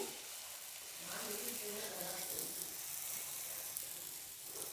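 Tomato cheese dosa batter made from bajji batter sizzles on a hot griddle, a steady, soft hiss that runs unbroken for a few seconds and swells slightly partway through.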